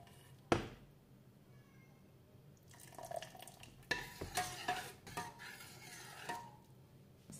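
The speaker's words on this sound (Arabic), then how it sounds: "غادي نخلطو الكل مع بعض ونخليوها تغلي واحد دقيقه حتى جوج دقائق" A spoon stirs coffee with spices and black pepper in a pot, giving a sharp clink at the start, then a series of soft scraping and clinking strokes against the metal, fairly quiet.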